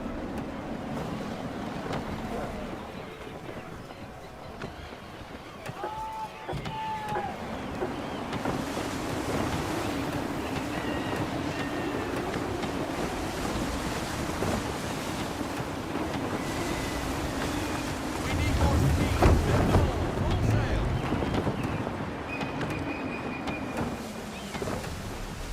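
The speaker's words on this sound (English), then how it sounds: "Gusty winds can be difficult to manage." Gusty wind while a sailing ship moves across the sea in Assassin's Creed 3: a continuous roar of wind and rushing waves with creaking hull sounds, swelling louder in one stronger gust near the end.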